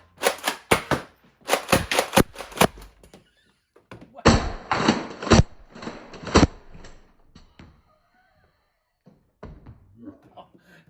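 A Nerf Hyper Siege 50 blaster fires in quick bursts of sharp thunks and clacks, several loud close shots in clusters with pauses between, and a person talks briefly near the end.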